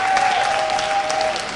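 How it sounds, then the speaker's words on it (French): Audience at a French lecture applauding limply on request, a soft, even patter of many hands sustained briefly with a faint steady tone running underneath. "applaudissez mollement, s'il vous plaît"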